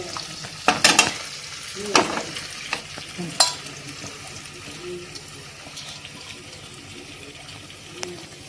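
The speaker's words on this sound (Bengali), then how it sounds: "এইবার চিকেনটার সঙ্গে অ্যাড করে দিচ্ছি পুরোটা ঢেলে দাও" Marinated chicken poured into hot spices in a pan for a meat curry cooked without onion or garlic, with a burst of splashing sizzle and clattering at the start that settles into a softer, steady frying hiss.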